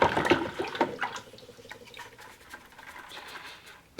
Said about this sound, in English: So I'll clean out my brush.